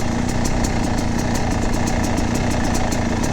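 A Yamaha YZ250 X two-stroke dirt bike putters along slowly in first gear off the throttle, its engine note a loud, steady, close buzzing drone with a rapid regular pulse.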